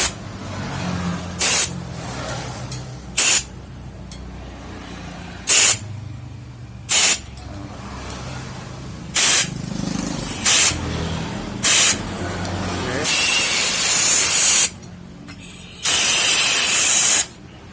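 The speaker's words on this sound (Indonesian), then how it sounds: "kita semprot pakai kompresor. Nah, tuh kan keluar debu-debu itunya," An air compressor blasts dust out of a thousand-hole gas stove burner in about nine short, sharp hissing bursts, then two longer sustained sprays, all loud and close over a low rumbling background.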